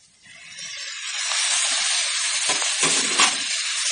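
Onions and tomatoes sauté in a pan for vada curry, a steady crackling sizzle that swells after a quiet start and holds close and even, with a few brief bursts of stirring and no voices.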